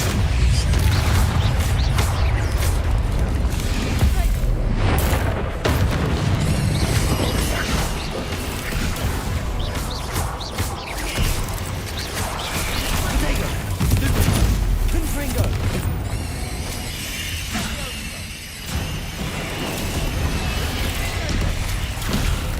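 Incendio fire spell being cast repeatedly in Hogwarts Legacy on PC, heard as a loud, dense run of bursting, crackling blasts and booms with game effects throughout, under a voice calling out the spell.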